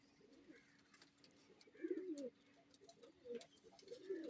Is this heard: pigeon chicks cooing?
yes